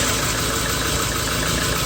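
Chevy Metro engine being cranked over during a crank-no-start diagnosis, a close, steady, rhythmic mechanical churning drone that runs unbroken throughout.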